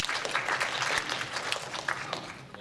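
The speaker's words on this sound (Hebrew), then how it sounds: "וזה זמן לעוד כמה מחיאות כפיים." An audience applauding at a talk, a dense wash of clapping that holds steady and tapers slightly near the end.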